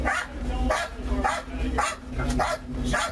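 A police dog barks in repeated loud bursts during a tense vehicle arrest, the barks spaced through the moment while officers shout commands over it.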